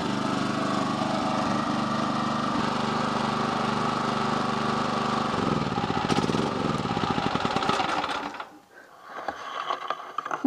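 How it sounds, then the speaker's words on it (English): A tractor engine is cranked over on its battery, a steady loud mechanical churning that holds for several seconds, then turns more ragged and cuts off abruptly near the end. "We'll see if the battery's got enough oomph to turn it over."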